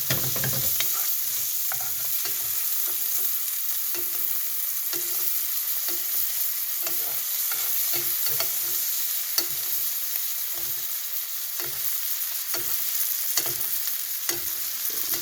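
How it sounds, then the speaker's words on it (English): Butter sizzling in a frying pan while being stirred, a steady crackling hiss throughout with a rhythmic scraping of the utensil repeating every second or so. "Let's get the butter in here."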